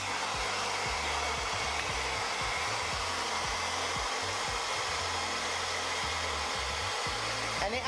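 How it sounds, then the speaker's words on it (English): Hair dryer blowing hair dry, a steady loud whoosh with a low motor hum running unbroken throughout. "get my hair dryer, and then blow dry it"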